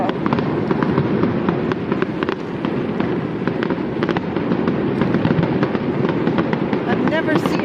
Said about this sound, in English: I've never seen fireworks like this.